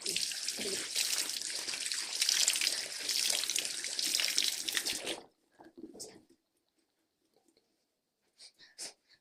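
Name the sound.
water running while washing face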